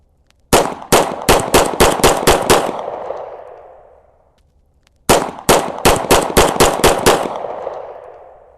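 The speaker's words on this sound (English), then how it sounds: "Just gonna lean into it, see if I can put enough rounds through it." A Swiss P49 Sig P210 pistol fired rapidly, heard as a close, loud string of eight sharp shots with a fading echo, then after a pause a second string of eight.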